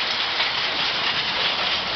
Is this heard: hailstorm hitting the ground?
yes